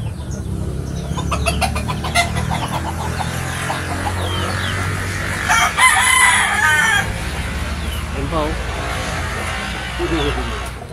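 Rooster of the Maclean gamefowl bloodline crowing twice, fairly near, over a steady low hum, with other chicken clucks and background voices around it.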